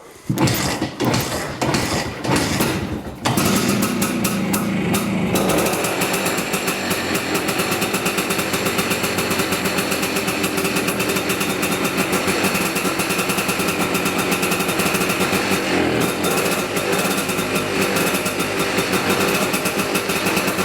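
A 1960 BSA Bantam D7 motorcycle engine idling on partial choke in a cold workshop: after a few loud bursts it settles into a steady, rapid two-stroke putter, close and loud for the rest of the clip.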